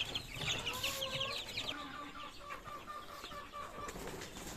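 Chickens cluck in a farmyard pen alongside ducks, with some wing flapping. The calls are soft and distant, layered over steady outdoor background noise.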